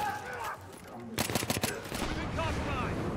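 Automatic gunfire from the video game Battlefield 3 during a co-op mission, a rapid loud burst of shots lasting under a second, followed by a lingering rumble and faint game ambience.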